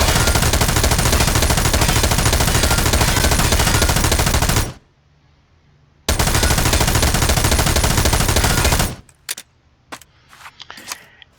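An M249 machine gun in a video game, fired from a kneeling position, lets off a loud, dense burst of sustained automatic fire lasting several seconds. After a short pause comes a second long burst, then a few scattered clicks and handling sounds.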